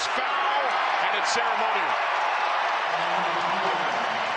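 Raucous crowd roar at the Summit League final, Denver at South Dakota State, with a near-home crowd on a neutral floor; a steady, loud wash of cheering runs throughout while a commentator speaks over it and a ball bounces briefly.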